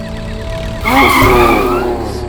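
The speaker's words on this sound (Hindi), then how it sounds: "ब्रेक क्यों लगा इतनी जोर से?" A car brakes hard on the road, tires screeching in a loud skid that builds suddenly and holds for over a second before easing off.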